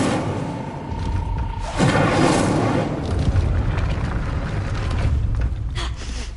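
Incendio fire spell cast in Hogwarts Legacy, a sudden booming whoosh of flame that erupts partway through and rumbles on as a sustained roar, fairly loud and close with no talk.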